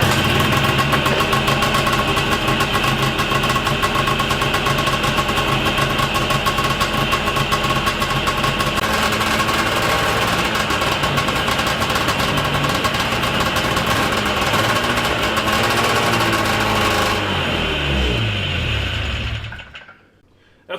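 Small two-cylinder engine of a 1983 Yamaha Enticer snowmobile running steadily, a buzzy loud idle with an uneven note that suggests it may not be firing on both cylinders, before it cuts out abruptly near the end.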